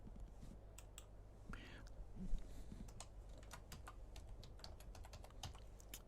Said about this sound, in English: we'll enter a name, and we'll enter S Spade and the password Scorpion 5